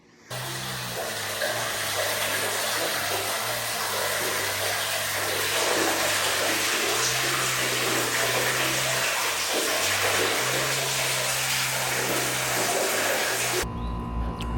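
Water pours steadily into a tote tank with a constant hissing rush and a low hum underneath, running without pause until it stops abruptly near the end.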